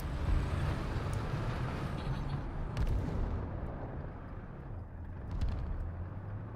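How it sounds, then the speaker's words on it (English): Artillery fire in War Thunder, Russian ground battle, a rumbling barrage of heavy booms under a constant low engine drone, with a few sharper cracks standing out. "There goes that artillery."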